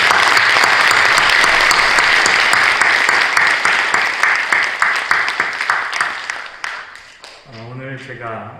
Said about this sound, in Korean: 우리 박수로 한번 축하해 줍시다.